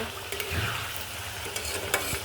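A spoon stirs fish and pointed gourd curry in a pan, producing steady scraping and soft sizzling with occasional clinks, close and continuous, with no talking.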